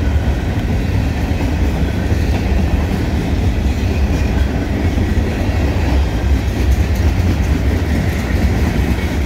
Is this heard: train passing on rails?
yes